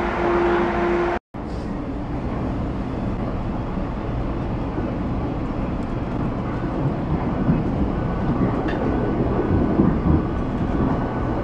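Steady low rumble of a train rolling along the rails, loud and continuous from start to finish with one brief dropout near the start.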